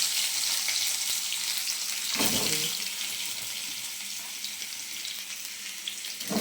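Whole chillies and nigella seeds hit hot oil in a scorched wok, giving a broad hissing sizzle that flares briefly with a stirring scrape midway and then settles into a steady fry, with nobody speaking.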